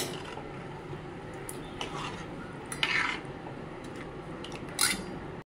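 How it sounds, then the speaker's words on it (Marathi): Cooked cowpeas being stirred into a spiced coconut masala in a pan, with a steady scraping and mixing texture and two sharper utensil clinks against the pot partway through. "आता आपण हे जे आपण चवळी लावून घेतली ती घालून घेऊया आपण। चांगलं मिक्स करू।"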